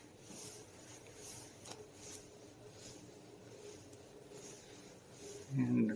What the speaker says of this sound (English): Let's pedal the bike.